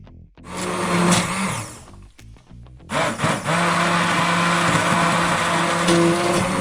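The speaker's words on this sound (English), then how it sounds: "Turn my KitchenAid on to just 1." KitchenAid stand mixer running on speed 1, kneading bread dough of King Arthur flour; a steady whirring motor hum with a churning texture, briefly interrupted then resuming loud and continuous, close by.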